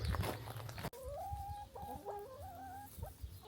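Chickens clucking nearby: after a brief noisy burst, a hen gives a series of drawn-out, rising and falling clucks and squawks, moderately loud over quiet outdoor background.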